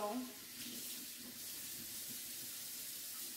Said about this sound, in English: I'm just running it under this water again.